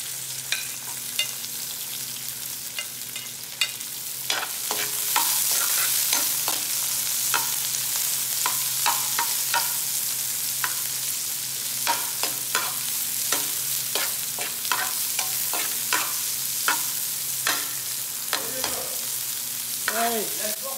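Chopped onion frying in a pan for a sweet and sour parrot fish dish, with a steady sizzle under repeated scraping and clinking strokes of a utensil stirring, close and fairly loud alongside a low background hum.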